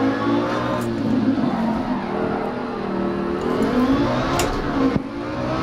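A rally car engine in the Dirt Rally video game revving and pulling through gears, a steady close whine with pitch rising and dipping and a brief knock near the end.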